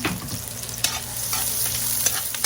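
Garlic sizzles in a pan for a tuna Bicol express, a dense crackling fry with a few spoon scrapes and taps over the steady hiss.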